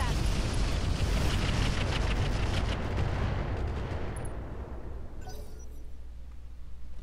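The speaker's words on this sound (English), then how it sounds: "I'm going to try for some leg shots here" Heavy mech weapons firing in the Roguetech video game: a dense, continuous barrage of loud booms and blasts that gradually thins out, ending in softer, scattered sounds over a low hum.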